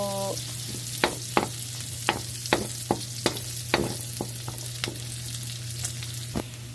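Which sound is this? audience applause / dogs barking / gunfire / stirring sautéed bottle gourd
stirring sautéed bottle gourd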